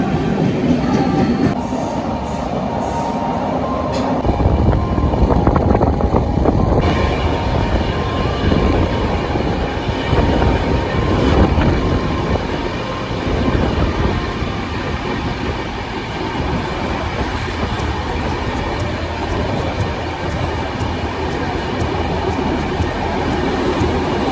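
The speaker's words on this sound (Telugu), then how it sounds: "టన్నెల్లో రైలు పోతూ ఉంటుంది, బాగుంటుంది." A train runs through a tunnel near Kurukshetra, giving a steady, loud rumble of wheels and carriages that fills the whole stretch, with faint rhythmic clatter and no talking.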